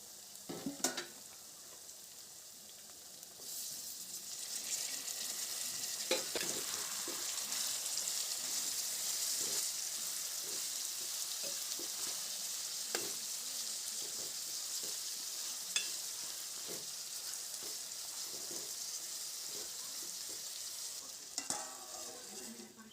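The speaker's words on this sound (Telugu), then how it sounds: "ఇప్పుడు ఇందులో కట్ చేసుకున్న టమాటా ముక్కలు వేసుకొని కలుపుకోవాలి" Chopped tomato pieces fried and stirred into a thick chicken curry gravy in a pan, giving a continuous hissing sizzle that swells after a few seconds, with scattered spoon taps and scrapes against the pan.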